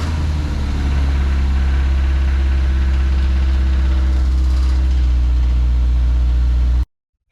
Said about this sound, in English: It could be something else, but I think it's a rod knock